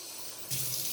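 Tap water runs into a cooking pot, two cups measured out for making rice; a steady close hiss of flowing water starts abruptly halfway through, alone with no talk.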